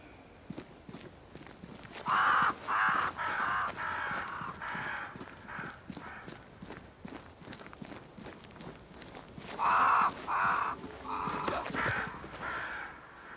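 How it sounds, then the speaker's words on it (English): Crows caw in harsh clustered bursts in the video game Banishers: Ghosts of New Eden, two volleys several seconds apart, with soft footsteps plodding underneath. "Crows. They flock to that great tree up there."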